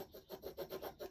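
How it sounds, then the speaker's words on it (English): Rubbing a newspaper transfer onto a journal page, a quiet, rhythmic back-and-forth scrubbing of paper with about eight even strokes in a second, faint and close with no voices. "And you can rub as long or as little as you like."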